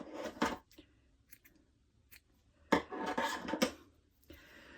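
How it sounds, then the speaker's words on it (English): Scissors trim uneven yarn loops on a handmade fabric-and-felt gnome beard, giving a couple of close, crisp snipping bursts separated by a quiet pause. "you just give the beard a little trim"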